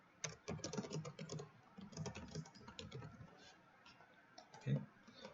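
Quiet, close typing on a computer keyboard while coding, quick bursts of soft key clicks with short pauses and one firmer tap near the end.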